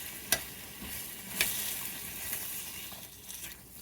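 Potatoes simmering in a pot give a quiet, continuous bubbling hiss with two brief sharp ticks near the start, close and faint, with no talking.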